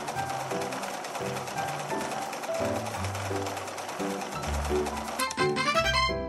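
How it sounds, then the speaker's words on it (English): Cartoonish sewing machine effect in a children's dress-making video game, a rapid rhythmic mechanical stitching over bright background music, steady for several seconds and ending with a quick chime. "Let's sew the pieces together."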